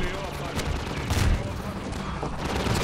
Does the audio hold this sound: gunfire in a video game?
yes